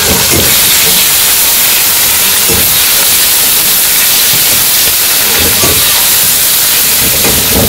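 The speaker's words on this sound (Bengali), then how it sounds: "বাটা মশলাটা দিয়ে একটু কষিয়ে নিই।" A paste of ground onion, ginger and garlic fries in a hot pan for a village-style fish curry, giving a loud, steady sizzling hiss with occasional soft clatters.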